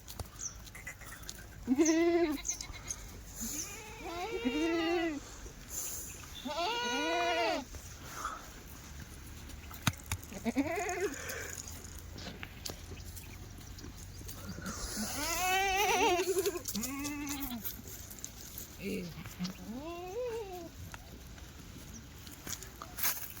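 Kathiawari goats bleating in a livestock pen, about eight wavering, nasal cries rising and falling at irregular intervals over a low background murmur, some close and loud, others softer.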